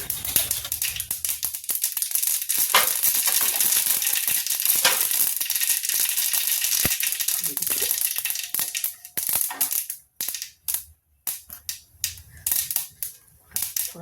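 Cumin and mustard seeds sizzling in hot oil on low heat and being stirred, a dense crackling hiss with sharp popping seeds that thins into scattered pops and spoon scrapes toward the end.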